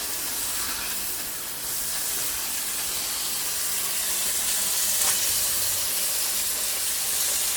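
Burgers for loose meat sandwiches sizzle steadily on a hot grill after being flipped once, a constant bright hiss with no talking.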